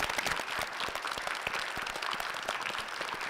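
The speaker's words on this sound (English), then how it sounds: "let's give them a big round of applause" An audience gives a big round of applause to competing teams at a Brain Wave event, with sustained, dense clapping and faint crowd noise running the whole way through.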